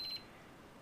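A continuity tester on a Solectria AMC325 motor controller gives a short, steady electronic beep across a blown fuse, a single tone lasting a fraction of a second before fading into quiet room noise.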